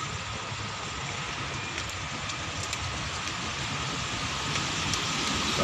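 Steady broadband hiss of rain falling on a construction site, a continuous wash of drops on a surface that swells slightly louder toward the end, with no voices.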